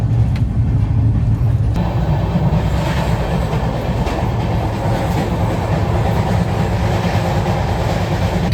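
Passenger train rolling along after leaving the station on a trip to Ratnagiri, a steady loud rumble with rhythmic clickety-clack of the carriages running continuously throughout, with no talking.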